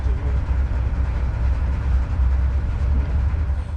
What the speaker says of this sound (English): So that was quite a train trip.